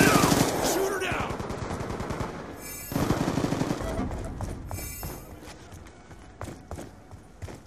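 Gunfire in a video game: rapid, sustained automatic fire at close range that gradually thins into scattered, fading shots, with game effects over it.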